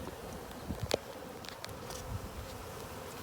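A soft, steady buzz of many honeybees hums close by as a package is hived, with a few brief clicks and knocks over it and no talking.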